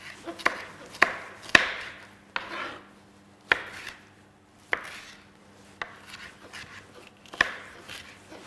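A knife roughly chopping red pepper on a board: about a dozen sharp, uneven thuds spaced across the passage, close and fairly loud over quiet room hiss.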